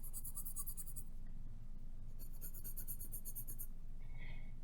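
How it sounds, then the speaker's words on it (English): Pencil shades on a sheet of paper next to a straight edge, a soft steady scratching over a constant low background hum. "I can take a sheet of paper and shade up next to this edge."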